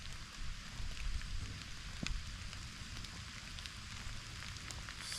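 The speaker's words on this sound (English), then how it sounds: "Sadly, nothing but raindrops on headstones." Rain falls in a cemetery, a soft steady hiss with faint scattered taps on headstones and one slightly louder tap, distant and quiet throughout.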